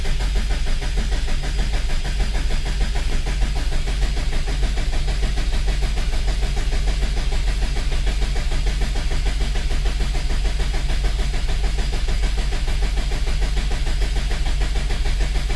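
A car engine that had sat unused for about eight months running with a steady, loud, rough drone, close up and continuous with no talk.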